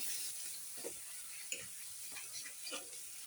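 Mustard and poppy seed paste with turmeric being stirred through fish in a hot pan, giving a soft, steady sizzle with a few faint scraping strokes, quiet and close with no voices.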